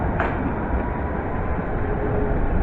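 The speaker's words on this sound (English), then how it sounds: "departing now is the Underground Met Line service to Harrow on the Hill from Baker Street" London Underground Metropolitan line train pulling out of Pinner station toward Harrow on the Hill, a loud, steady rumbling roar close by with no voices.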